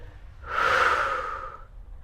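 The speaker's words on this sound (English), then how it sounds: "And breathing out." A single long exhale during a lying mobility stretch, a soft breathy rush that swells and fades over about a second, close and alone.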